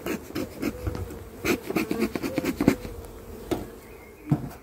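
Honeybees swarm around an open hive during an inspection, their buzzing close and uneven in short bursts, mixed with light rubbing and handling noises.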